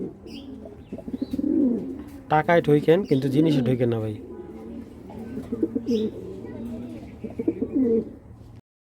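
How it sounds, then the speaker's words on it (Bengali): A female racing pigeon coos in low, throaty bursts close by, repeating through the clip while someone talks over it. "ইউনিক রেসার একটা মাদি কবুতর"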